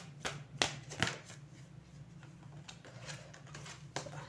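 Tarot cards being shuffled by hand before a draw make a quiet, close run of papery riffles and soft flicks, with a few sharper snaps near the start.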